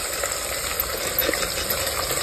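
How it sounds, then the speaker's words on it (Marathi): Sliced onions sauté in hot oil with whole spices for a village-style chicken biryani cooked outdoors on a farm, giving a steady close sizzle with a few stirring scrapes and no talk. "आता मी कांदा टाकून घेतलाय तेलात. आता या कांदा लाल होईपर्यंत परतून घेणार आहे आम्ही."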